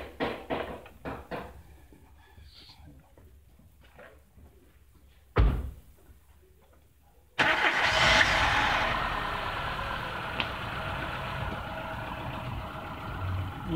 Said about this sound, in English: Engine is running now. I'm not sure if you can pick up the misfire, but it's clearly there.